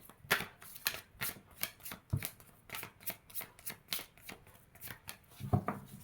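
Tarot cards are shuffled by hand in quick, rhythmic riffling bursts, soft and close, repeating steadily without pause.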